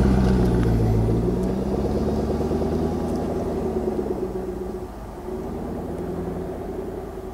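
A Jaguar F-Type Coupé R on Pirelli P Zero tires cruises at speed on the banked test ring of CERAM, a steady engine drone and rolling tire rumble heard from inside, easing slightly partway through.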